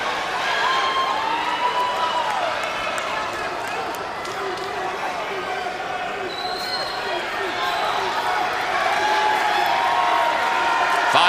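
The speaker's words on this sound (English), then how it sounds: "the crowd expresses its appreciation for the most significant fight to take place in Nashville in decades" A crowd at a boxing fight in Nashville applauds and cheers in a sustained, dense wash of clapping and voices lasting many seconds, with an announcer talking over it.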